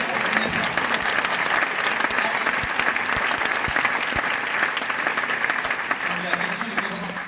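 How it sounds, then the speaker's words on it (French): Audience applause at a live stand-up comedy show in a theatre hall, steady dense clapping from a large crowd that holds loud and even throughout, with no voices standing out. "Tentative d'applaudissement."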